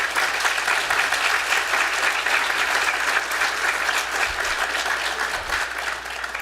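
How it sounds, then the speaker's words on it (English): A crowd at a student recognition ceremony for the EOPS, CARE and CalWORKS team claps in a steady, dense round of applause that holds at an even level throughout. "I want to give them a round of applause"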